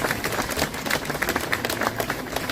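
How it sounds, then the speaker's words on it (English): Scattered clapping from an outdoor crowd at a Memorial Day parade after a young speaker, a fifth-grade girl, finishes; light, uneven claps over steady background noise. "Let's give her a round of applause for that"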